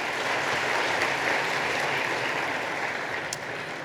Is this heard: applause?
yes